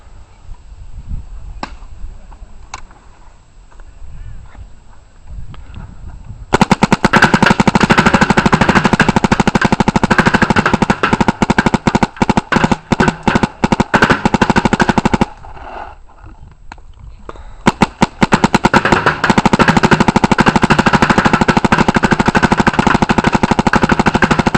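Paintball marker with a Torque loader firing in PSP mode at 13 balls per second, loud rapid-fire bursts of dense popping, a pause, then another long burst, preceded by a few isolated clicks.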